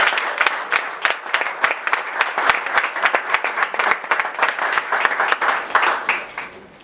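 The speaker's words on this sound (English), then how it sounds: "I think he deserves a better applause." An audience at an awards ceremony claps loudly, with distinct, fairly evenly spaced claps that stay steady before tapering off at the end.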